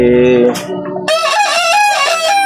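A gamefowl rooster of Kanawayon and regular grey lines crows once, loud and close, its call rising then holding, with clucking from other fowl just before.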